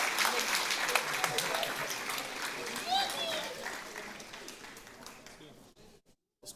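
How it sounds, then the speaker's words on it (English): A crowd at a high school athletics sports banquet gives a round of applause, with voices calling out over the clapping, before it fades away and drops to near silence at the end. "let's give them one more round of applause"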